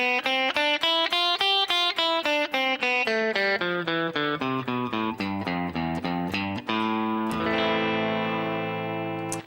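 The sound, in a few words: guitar playing A natural minor scale shape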